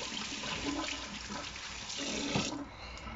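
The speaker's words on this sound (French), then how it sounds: "je vais quand même rincer encore un peu mes mains" Running tap water pours steadily over hands being rinsed at a sink, a continuous close splashing rush with slight shifts in flow near the end.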